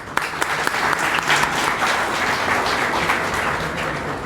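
Audience applause welcoming a guest speaker, Mr. Naveen Nanda, at a college event at GNIOT in Greater Noida: a dense, steady burst of many hands clapping at close range, sustained evenly throughout with no talk over it.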